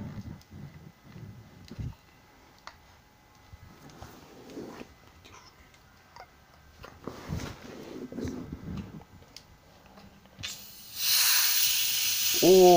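A sudden loud broadband hiss bursts out near the end after some handling noises, rushing like gas escaping from a freshly opened bottle of Sprite.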